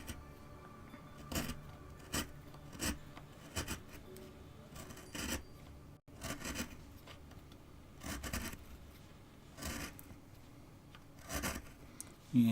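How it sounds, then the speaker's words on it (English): A small flat chisel pares at a wooden owl carving, soft scraping and rasping strokes coming in short irregular bursts, fairly quiet and close. "I can use a flat chisel there, you see, to get"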